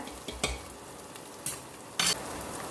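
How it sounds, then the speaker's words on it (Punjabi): Onion and ginger paste frying in a pan for a raw-potato curry, a soft continuous sizzle broken by a few brief loud scrapes and knocks of a stirring spoon, close and without voices. "ਅਦਰਕ ਤੇ ਹਰੀ ਮਿਰਚ ਦਾ ਪੇਸਟ ਪਾ ਲੈਣਾ ਦੋ ਤਿੰਨ ਮਿੰਟ ਅਸੀਂ ਇਹਨੂੰ ਵੀ ਪਕਾ ਲੈਣਾ"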